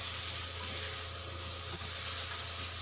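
Water in a pot coming to a boil for cooking malunggay, a steady close bubbling and sizzling hiss that runs unbroken for a few seconds with no voices.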